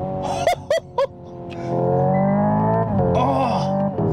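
A 2025 Hyundai Ioniq 5 N electric hot hatch driving, with a synthetic engine-like tone that shifts through stepped gear changes, then swells into a loud, steady rising drone from inside the car.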